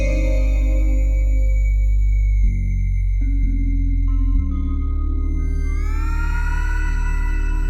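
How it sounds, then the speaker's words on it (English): Space Quest 4 game soundtrack music drenched in heavy reverb: sustained synth tones and a deep bass line shifting through chord changes, with a brighter rising tone swelling near the end, loud and alone without talk. "Let's just smother that thing in reverb."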